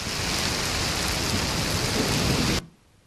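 Heavy rain shower pouring down in Halol, Gujarat, a dense steady roar of drops hitting surfaces that fills the air and then cuts off abruptly near the end.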